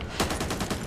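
Rapid bursts of gunfire from a recoil-heavy gun in the zombie shooter Back 4 Blood, several loud close shots in quick succession with no talk.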